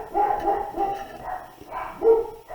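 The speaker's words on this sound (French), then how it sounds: "c'est les chiens qui ont décidé de jumper" Dogs bark in a string of short, loud, close barks and yips, several in quick succession with a brief pause before a final burst.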